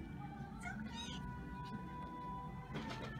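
A cat meows from inside a box, two short, faint, rising cries heard over a steady background hum.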